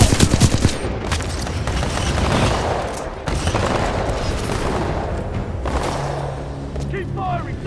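Heavy gunfire in the Titanfall 2 shooter, a dense continuous fusillade of rapid close shots with booming blasts mixed in, loud throughout with game combat noise layered over it.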